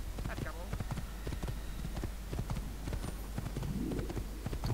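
Rapid rhythmic clip-clop of horse hooves galloping in the Assassin's Creed video game, steady and fairly loud over continuous background, with someone talking over it.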